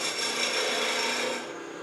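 A wood lathe turning a wooden blank as a gouge nips the corners off, giving a steady, close rasping and rubbing cut that holds even and fairly loud, easing slightly near the end.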